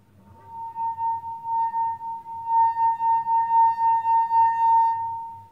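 Musical wine glass played by rubbing its rim, a sustained pure ringing tone that swells and pulses steadily for several seconds, close and clear with no talk.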